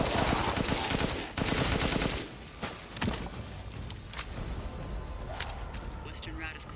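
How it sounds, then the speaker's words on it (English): Bursts of machine-gun fire from a military firefight in a survival-horror shooter, rapid automatic rattling loud and close at first, then thinning into scattered shots and clatter amid game ambience. "Machine gun."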